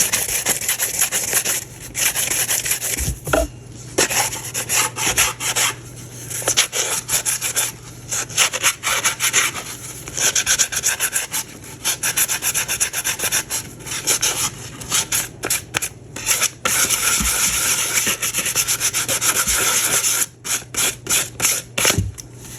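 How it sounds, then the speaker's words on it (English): Steady, close scratchy rubbing as an epoxy-coated tumbler is sanded to rough up the surface, in continuous strokes broken by short pauses. "this is just to rough up the surface"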